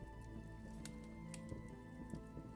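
Steady rain falling in the Vintage Story video game, a soft continuous patter of drops at low volume with no other sounds.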